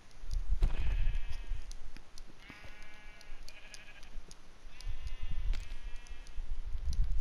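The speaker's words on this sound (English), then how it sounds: "I hear a sheep, okay?" Sheep bleating in the Minecraft video game: several drawn-out, wavering bleats come in separate bursts over a low, steady rumble of game noise, fairly close and loud, with no talking.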